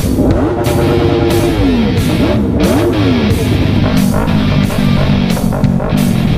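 Many motorcycles of mixed engine sizes rev together at a huge rider gathering on a closed road, loud overlapping engine roars with repeated rising and falling throttle blips throughout.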